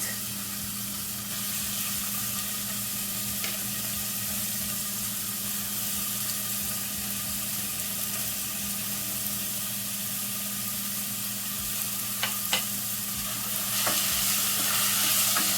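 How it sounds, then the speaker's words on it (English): Corned beef and vegetables sauté in a pot, giving a steady loud hissing sizzle throughout with a few faint stirring clinks and scrapes. "And I'm gonna saute this about 4 minutes."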